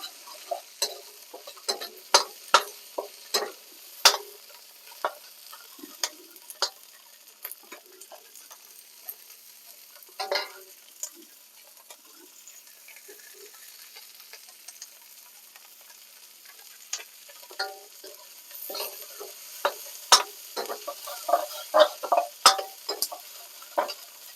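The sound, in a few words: vegetables and onions stir-frying in a pan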